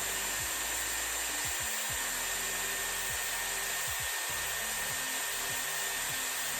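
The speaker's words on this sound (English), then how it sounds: "And then I blast it with the cold air for about 10 seconds." A Dyson Airwrap blows cold air on a curl of long hair, giving a steady, close, unbroken whoosh of airflow that runs the whole time with no talking.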